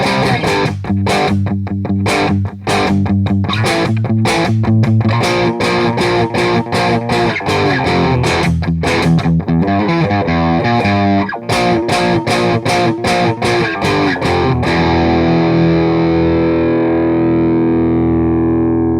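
Distorted electric guitar plays a riff slowly, chugging palm-muted chords and ringing notes in a steady, loud rhythm before sustaining into a held chord at the end.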